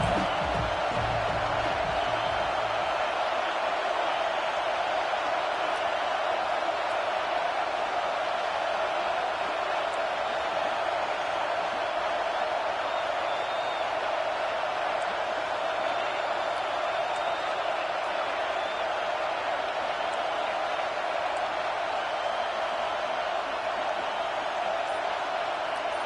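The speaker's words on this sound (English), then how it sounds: "how nice is it to have the home crowd going absolutely bananas?" A home crowd in a college football video game, USC versus Notre Dame in NCAA 26, sends up a steady, loud stadium roar that holds at one level without breaks throughout.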